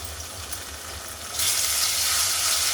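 Two tablespoons of ginger garlic paste sizzle in a pan for a chicken masala curry, a steady close frying hiss that swells noticeably louder partway through.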